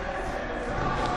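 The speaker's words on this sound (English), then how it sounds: "Listen to this capacity crowd chanting" A capacity crowd at a live pro wrestling show, PPW Storm Front, roars and chants in a dense, sustained wash of voices that holds steady and loud throughout, with no single voice standing out.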